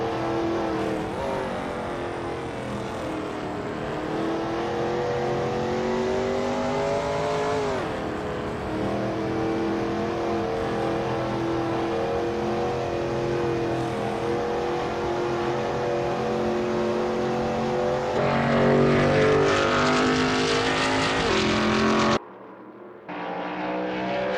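Veloce GTS-8 race car engine from a video game, droning steadily at high revs on track at Palmadero, with rising and falling pitch through gear changes and a brief cut near the end.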